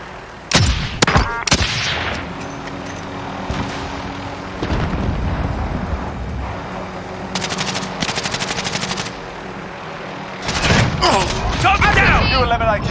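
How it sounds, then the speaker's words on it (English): Sniper shot fired by a passenger from a vehicle seat in the video game Warzone, a sharp gunshot early on followed by further bursts of gunfire and game action, with loud rumbling noise throughout. "just watch this very impressive switch seat sniper shot"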